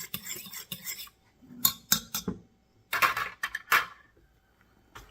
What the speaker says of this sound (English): I'm gonna mix that up together